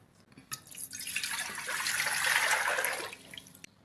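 Water pours steadily into a metal pressure cooker for a couple of seconds, a rushing splash that swells and then stops, with a few clinks around it.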